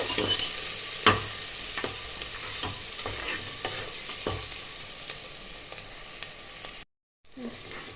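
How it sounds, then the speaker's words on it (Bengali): Three medium onions fry lightly in a pan for a yogurt mutton dish, giving a steady soft sizzle broken by occasional scraping stir strokes. The sound cuts out briefly near the end. "পেঁয়াজটা আমি হালকা ভেজে নেব।"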